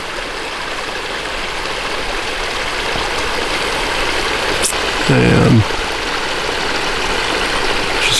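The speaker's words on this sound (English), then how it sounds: "Water coming out of the spring." Spring water flowing out and running down a forested hillside, a constant broadband rush filling the whole stretch, with a brief spoken word partway through.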